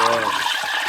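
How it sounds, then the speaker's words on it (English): A DeLonghi Magnifica coffee machine's steam wand froths milk, a brief, steady hissing, gurgling rush of steam and liquid heard close up. "Froth that milk"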